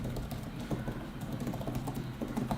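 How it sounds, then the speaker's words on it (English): Steady clicking of keys typed on an iPad Pro Magic Keyboard, quick and fairly soft, close up with no voices. "the keyboard is actually quieter than the other one which I've been using"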